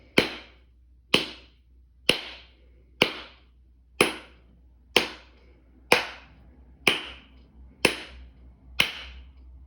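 Ten sharp hand claps in a counting maths game for children, evenly spaced about one second apart, crisp and close with short room echo and no talking.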